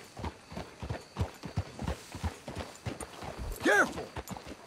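Horses' hooves clop at a walking pace in Red Dead Redemption 2, a clear rhythmic series of close hoof hits with a brief whinny-like call, while characters speak.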